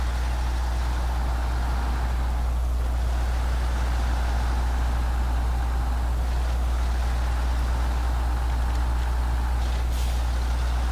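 A heavy truck engine in the off-road driving game SnowRunner, a loud steady low drone that rumbles continuously, with brief hissing bursts over it and no talking.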